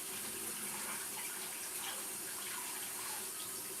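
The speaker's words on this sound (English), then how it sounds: "So let me wash these hands." Running tap water while hands are washed at a sink, a steady, moderately faint hiss of flowing water with slight splashing fluctuations and no talk.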